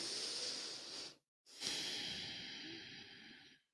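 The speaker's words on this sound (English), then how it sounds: "And take a nice deep breath now." A slow deep breath during a guided relaxation, a long audible inhale, a brief pause of silence, then a long steady exhale, close and alone without talk.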